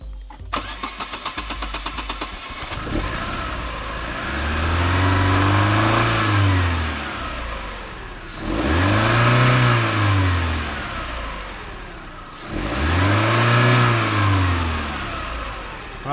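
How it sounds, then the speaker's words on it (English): A car engine cranks with a rapid starter chatter, catches, then revs up and down three times in long swells with idle between, loud and close, during a fuel system cleaning treatment. "we're going to start the car back up, and we're going to rev through it 3 times"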